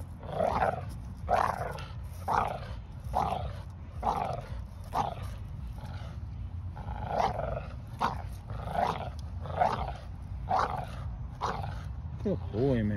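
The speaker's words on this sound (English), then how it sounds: "That's my dog." A Mandinka Slick gamecock...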